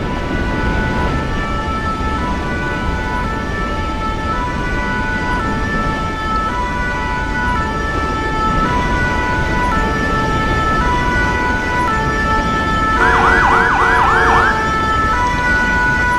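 A fire engine siren in the video game GTA with the LSPDFR police mod wails in briefly, a rapid warbling burst near the end over a constant road and ambient wash.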